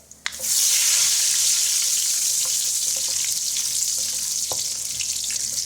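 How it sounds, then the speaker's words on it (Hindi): Whole cumin and cardamom spices frying in hot oil give a loud, bright sizzle that bursts in at the start and then holds steady, with a few faint clinks and pops along the way. "बस जैसे ही ये हल्का सा फ्राई होगा"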